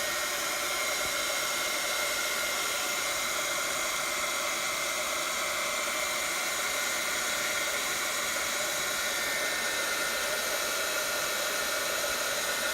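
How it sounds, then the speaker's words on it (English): A handheld heat tool blows steadily over fresh craft paint, giving a loud, even whooshing drone with a high whine. It runs alone and unbroken throughout. "So we're going to dry this with my heat tool."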